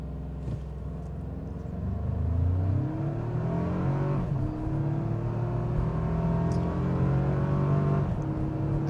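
A 2025 Toyota 4Runner Limited with full-time four-wheel drive pulls hard from a stop, its engine climbing steadily through repeated upshifts, each gear change briefly dropping the pitch before the rising drone resumes, heard from inside the cabin with no talk.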